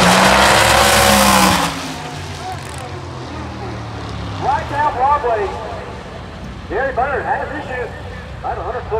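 Street Outlaws drag cars at Beech Bend Raceway launch down the strip, a loud engine roar opening the clip, then bursts of high revving and gear shifts, with a commentator talking over the racing.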